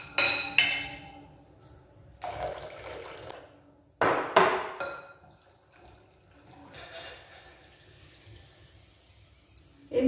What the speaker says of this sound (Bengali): আমি এর মধ্যে আরও কিছুটা জল অ্যাড করব।